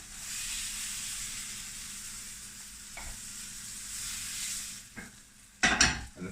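Beef pieces for a stew searing in a hot pan with oil and butter, a steady moderate sizzle and hiss, with a couple of brief knocks and a louder burst of pan clatter near the end.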